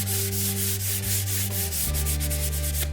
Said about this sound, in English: Just a light scuff sanding.